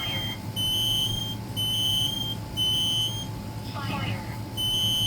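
A smoke alarm system under test gives repeated high electronic beeps in a steady on-off pattern, fairly loud over a constant background hum, with a brief burst of voice-like sound near the end.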